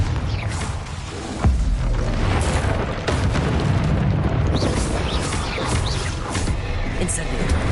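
A Confringo blasting spell explodes in the video game Hogwarts Legacy, a loud booming burst with a heavy low thump near the start and rumbling, crackling combat noise that carries on throughout.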